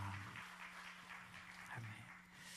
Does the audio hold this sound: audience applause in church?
yes